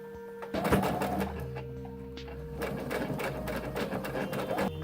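A sewing machine stitching a zipper into cosplay fabric, running in close, steady rapid bursts with a brief pause, with a faint hum beneath.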